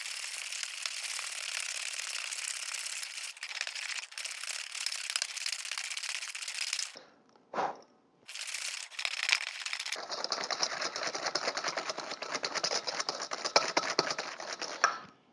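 Egg yolks and sugar whisked together in a bowl for an ice cream base, a steady close scraping and whisking that pauses briefly midway, then resumes alone.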